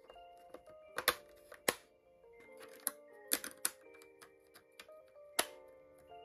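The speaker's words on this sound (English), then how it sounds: "I think it types pretty well, and I largely like the sound of the keys." Typing on a Rymek mechanical keyboard, irregular clicky keystrokes with sharp individual clacks and quieter taps, close and alone in a quiet room.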